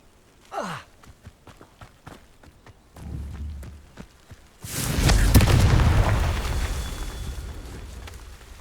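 A fiery Confringo spell bursts in the Hogwarts Legacy video game. A brief whoosh comes first, then scattered small effects. Midway a loud booming blast erupts and rumbles on, slowly fading away.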